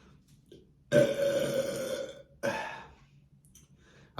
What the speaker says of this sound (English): I know the real PewDiePie is gonna tell me burping is not polite